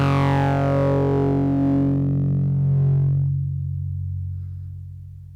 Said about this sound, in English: lead sound would sound better with a little auto pan on it